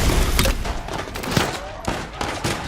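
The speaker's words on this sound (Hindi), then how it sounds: "1965 की जंग में तोपों की गनगरज" Wartime gunfire effect evoking the 1965 war, with several rapid booming shots in a dense barrage, loud and close, over a rumbling battlefield background.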